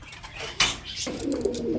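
Chandan pigeons coo with low, soft calls, a clatter in the middle and a steadier cooing toward the end, close by with no voices.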